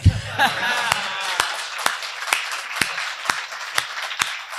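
Slow, evenly spaced claps, roughly two per second, from a kavi sammelan audience after a comic Hindi poem. The claps ring out crisply over a low murmur, with a brief voice at the very start.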